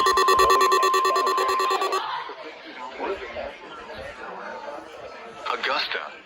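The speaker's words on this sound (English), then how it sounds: "The warning alarm would have been followed by an actual watch for a warning weather situation" A weather-warning test alarm from the Emergency Alert System sounds as a loud, steady, buzzing two-tone for about two seconds. It then cuts off, leaving a quieter background of chatter and laughter.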